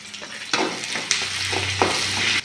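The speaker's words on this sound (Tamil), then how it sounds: "அடுத்ததாக இதோட பார்த்திங்கன்னா பூண்டு போட்டுக்கலாம்ப்பா." Garlic frying in a pan with green chillies, giving a steady close sizzle broken by several sharp scraping stirs. A low hum runs underneath in the second half.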